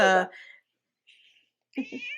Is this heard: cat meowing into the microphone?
yes